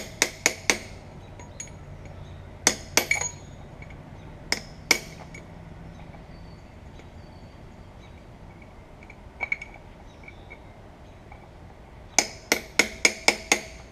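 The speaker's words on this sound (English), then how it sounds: "I'll take a punch and just bend it down" A hammer strikes a punch to bend a metal retaining tab on the nut of an IH 1066 tractor, sharp metallic taps in small bursts of two or three, then a quick run of five blows at the end, close and loud with no talk.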